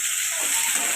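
Onion and green chillies sizzle steadily in hot oil in a pan, a loud, continuous frying hiss close by with no talking.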